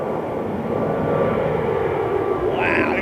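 A Boeing 777 departs a runway with a sustained jet engine roar and a faint high whine, and a voice briefly speaks near the end.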